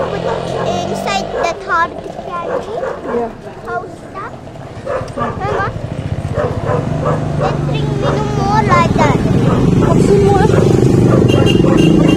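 A dog barks and yips repeatedly on a busy street, sharp yaps scattered across the scene under people talking, with motorcycles and car traffic rumbling louder toward the end.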